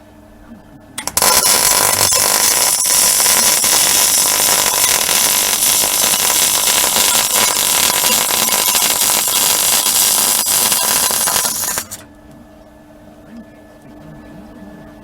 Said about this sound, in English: Just need to weld that on there.